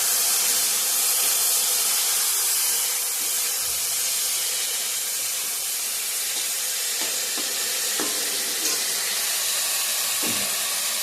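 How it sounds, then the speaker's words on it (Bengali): Flat beans (borboti) fry in hot oil with a steady, close hissing sizzle that runs throughout, broken by a few faint clicks and clinks, with no talking. "আর এইদিকে বটবটিটা ভাজা হচ্ছে"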